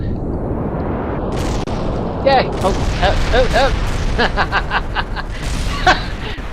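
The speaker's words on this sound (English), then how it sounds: "Best explosion ever." Rocket explosion in Kerbal Space Program: a loud, continuous game rumble of blasts and booms, with excited voices and whooping over it.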